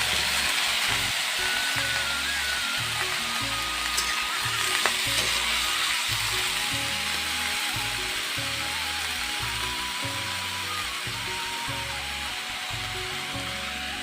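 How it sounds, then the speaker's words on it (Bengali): Cut potatoes and eggplant for a Bengali begun bothi fry in a pan with a strong, steady sizzle that runs the whole time, joined by a few faint utensil clinks, over soft background music. "এখন দিয়ে দিচ্ছি আলু বেগুনগুলো।"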